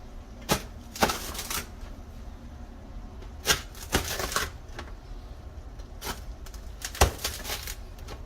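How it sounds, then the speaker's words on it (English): A knife cuts through a baked sourdough pizza resting on a pizza peel, making a series of sharp, crisp crunching strokes in irregular bursts with quiet pauses between them. The strokes are close and clear, with no talking. "I can cut this right on the peel."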